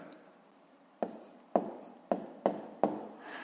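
Pen writing numbers on paper during a math exercise, five sharp scratchy strokes at uneven intervals, close and quiet.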